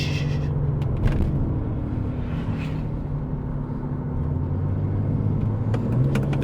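A Toyota Supra's engine runs with a steady, close rumble and some roadside noise over it, with no talk.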